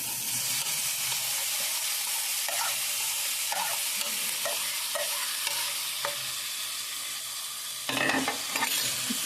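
Small Godavari fish dropped into a hot frying pan, steady oil sizzle with stirring scrapes and a sharper burst of frying near the end, close and fairly loud.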